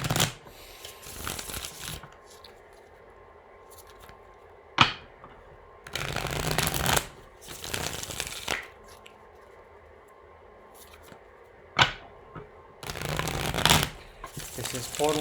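Tarot cards shuffled in bursts, with several loud riffling sweeps and short snaps separated by quieter pauses, close to the listener.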